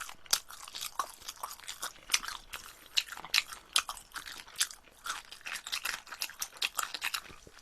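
Crispy sauced fried chicken being bitten and chewed right at the mouth, a steady run of sharp, close crunches in an uneven rhythm with no talk.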